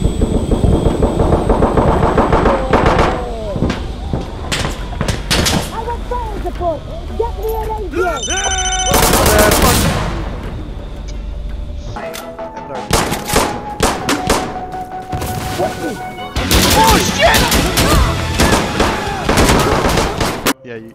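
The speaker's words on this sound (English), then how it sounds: "You see what this gun can do?" Gunfire in Insurgency: Sandstorm, dense bursts of loud rapid shots in several clusters with short pauses between them, mixed with game effects and voices talking over the action.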